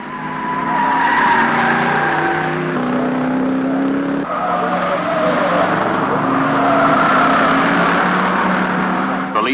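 Holden and Ford race cars in a touring-car race roar past with loud, sustained engine whine and tire squeal as they skid, the pitch shifting as they pass, with no talk over them.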